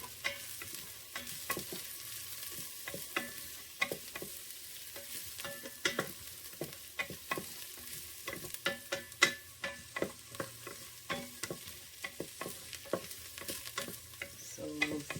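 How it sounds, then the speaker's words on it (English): Garlic sautés in oil inside an Instant Pot, a soft sizzle broken by frequent sharp scraping and tapping of a spoon against the pot, quiet and close. "Saute the garlic for like 30 seconds."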